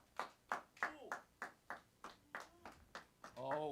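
At the Duncan Showroom, a handful of faint, evenly spaced handclaps ring out one after another, a slow, sparse clapping rather than a full ovation, ending as a voice begins.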